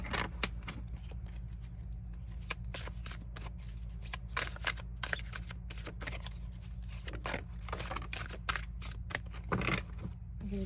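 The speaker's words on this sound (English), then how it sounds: "I'm just going to shuffle the tarot deck for you guys" A tarot card deck is shuffled close up, with continuous rapid riffling and snapping card bursts over a low steady hum, and no talking.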